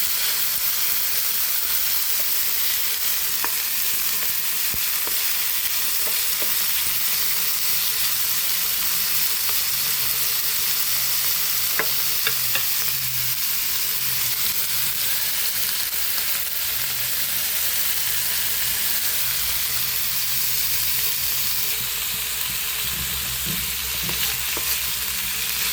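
Dried anchovies sautéing with plenty of tomatoes in a pan, a loud continuous sizzle close up with occasional scraping and stirring clicks.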